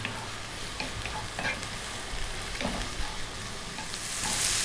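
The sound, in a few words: sautéing garlic, mushrooms and green beans in a pan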